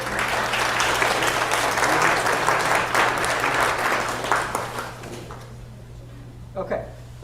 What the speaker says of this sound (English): Another round of applause for William.